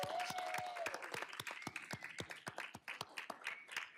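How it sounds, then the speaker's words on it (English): A small audience at a school board meeting gives a round of applause, the separate hand claps distinct and fairly close, with a brief whistle-like tone at the start. "Please, let's give them a round of applause."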